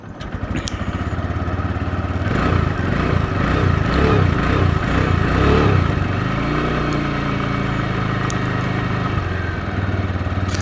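A TVS Raider motorcycle engine runs close by after its sound problem is fixed, its throaty idle rising into a revving stretch before settling back to a steady chugging rumble.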